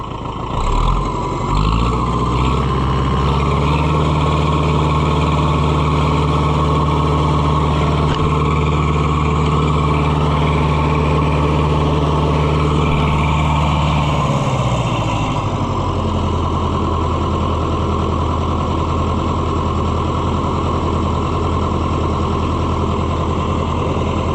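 An Oliver 550 diesel tractor engine idles loud and close with a steady low rumble for about fifteen seconds, then is shut down, leaving a fainter mechanical hum behind.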